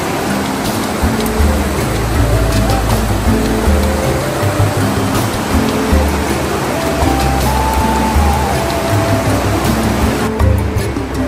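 A river rushes past beside the Hidimba temple in Manali, a loud, steady wash of flowing water. Faint music sits underneath it.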